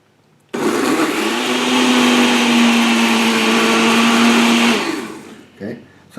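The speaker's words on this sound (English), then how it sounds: "we have the blender right here." A kitchen blender whirs loudly as it purees navel oranges for a green drink, a steady high-speed roar lasting about four seconds before spinning down and stopping.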